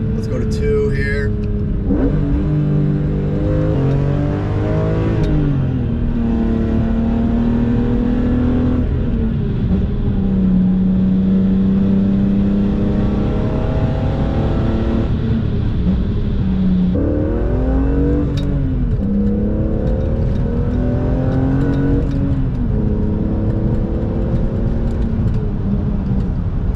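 A BMW E46 M3 with an SMG transmission downshifts through the gears, its engine loud and close with repeated blips and rising revs between steady drones, under occasional talk.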